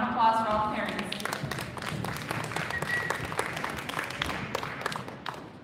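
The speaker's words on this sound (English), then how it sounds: "So a round of applause for all the parents." Audience applause at a Christmas piano and voice recital, a steady wash of many hands clapping that fills the whole stretch at moderate loudness, with a voice briefly audible near the start.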